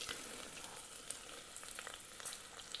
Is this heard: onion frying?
yes